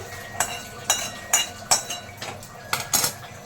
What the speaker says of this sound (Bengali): ভেজে রাখা সিমাইটা দুধের মধ্যে দিয়ে দিচ্ছি